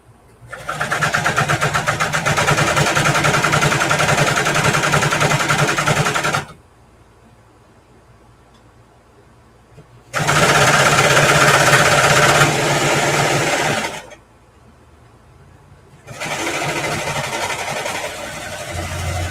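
A Brother 1034dx serger sews fabric for a bandana tote bag, running in three loud, fast, steady mechanical bursts separated by quiet pauses.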